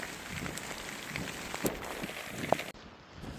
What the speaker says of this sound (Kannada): ಲಾಸ್ಟಿಗೆ ಫೈನಲಿ ಸಿಕ್ಕಾಪಟ್ಟೆ ಮಳೆ ಬಂತು